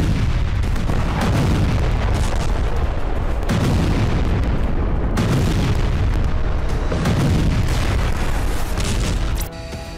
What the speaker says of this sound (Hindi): रूस यूक्रेन के सैन्य और एनर्जी ठिकानों को जलाने के लिए FAB-3000 बमों से हमले कर रहा है।